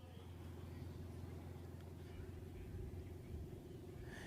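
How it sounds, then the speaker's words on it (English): Old Audi station wagon lapping Mansfield Speedway, a steady low engine rumble and road drone close by, running continuously without pause. "She is ripping around Mansfield Speedway and taking her time in the old Audi."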